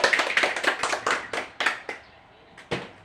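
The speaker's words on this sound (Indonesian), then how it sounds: "Kita berikan aplaus." Brief applause from a small group in a classroom, a few seconds of close, uneven claps that thin out into scattered last claps.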